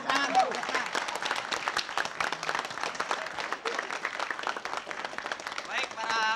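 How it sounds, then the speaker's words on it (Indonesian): A television quiz show studio audience applauds with steady, fairly dense clapping, while a host speaks over it. "Iya, tepuk tangan, tepuk tangan."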